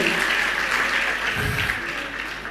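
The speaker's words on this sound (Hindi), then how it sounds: "ताली तो बजाइए" An audience at a Jain religious discourse session claps in steady, dense applause, loud and continuous throughout with a faint voice briefly under it.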